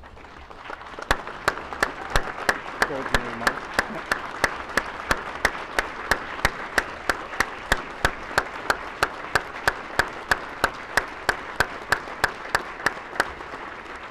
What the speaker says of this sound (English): please stand and give these recipients one more round of applause